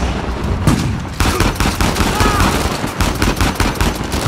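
Rapid automatic gunfire from Uncharted 4: A Thief's End, loud and dense, with bursts of shots overlapping in a chaotic firefight; a voice is faintly mixed in.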